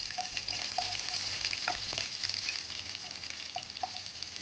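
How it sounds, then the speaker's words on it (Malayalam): Small shallots hit hot oil after mustard seeds have popped, giving a dense close sizzle with scattered crackles and seed pops throughout, steady and fairly loud, with no voices. "ചെറിയ ഉള്ളി ഇടാം."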